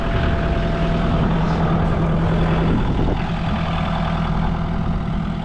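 A Korean TYM tractor's diesel engine runs steadily close by, a loud continuous low rumble with a slight change in tone midway through.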